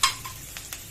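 Onions and crushed garlic fry in a pan with a close, steady sizzle. A few quick stirring clicks sound over it in a brief burst.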